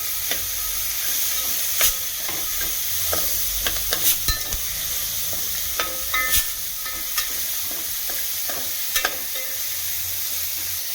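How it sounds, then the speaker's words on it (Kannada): Green peas fry in a spiced tempering, giving a steady close sizzle and hiss with frequent sharp crackles and the scrape of stirring, and no voices. "ಬಟಾಣಿ ಒಗ್ಗರಣೆಗೆ ಹಾಕ್ತಾಯಿದ್ದೀನಿ ನಾನು."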